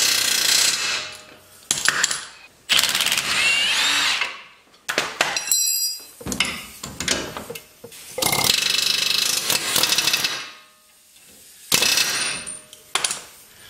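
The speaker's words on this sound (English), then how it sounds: "It's so that the tip of the air hammer can actually sit in something instead of bouncing all the way around" A pneumatic air hammer knocks a lower control arm bolt out on a Nissan Juke, loud rattling bursts of rapid hammering repeated in several long runs, separated by short pauses.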